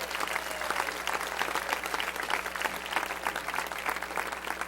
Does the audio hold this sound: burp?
no